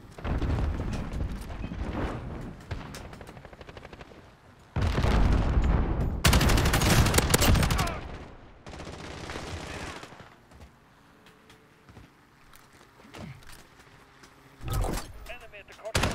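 Light machine gun firing in Call of Duty: Modern Warfare, with loud dense bursts of rapid gunfire and explosive blasts in several long stretches, broken by quieter game ambience and brief further shots.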